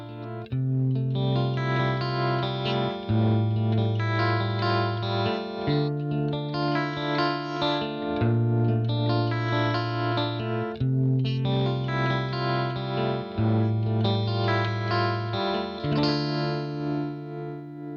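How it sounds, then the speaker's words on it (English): Sustained electric guitar chords through a Line 6 MM4 tremolo with peak follower pulse with a wavering throb, loud and close, the throbbing gradually slowing as the level eases off, with no voices. "You can hear as the volume is dropping, the tremolo is starting to slow down."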